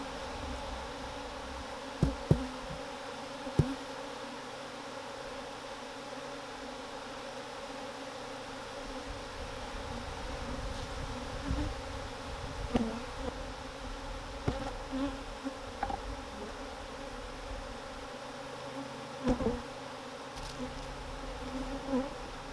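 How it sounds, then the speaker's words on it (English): A large swarm of agitated honeybees buzzing steadily around a hive, a dense continuous drone with a few sharper close passes standing out from the hum. "Bees. Lots of mean bees."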